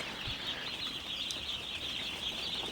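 Hundreds of A-grade Paragon broiler chicks on a farm cheep nonstop in a dense, high-pitched chorus, with a single low thump near the start.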